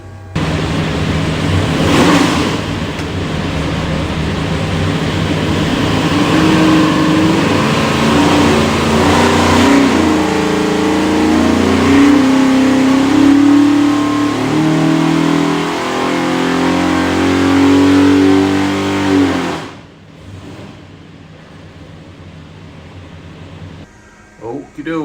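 A 632ci big block Chevy airboat engine revs hard on a dyno, a loud sustained roar rising in pitch for about twenty seconds before cutting off abruptly and dropping to a low idle.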